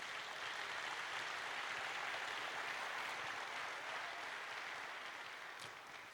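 A church conference crowd in Abidjan applauds the Lord in one long sustained burst of dense clapping, steady and full for several seconds before easing slightly toward the end, with no voices over it.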